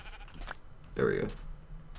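Sheep bleating in the Minecraft video game, one short bleat near the middle over low background sound and noise.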